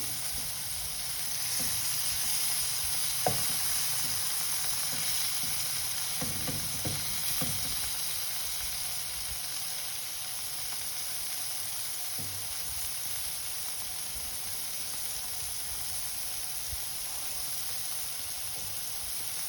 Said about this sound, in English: just turn each side of paneer so that it's all evenly cooked and the masalas get cooked nicely